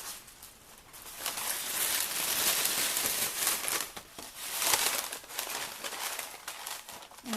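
Tissue paper crinkles and rustles steadily as it is stuffed into a white treat bag. The sound comes close up and softly, with no talking.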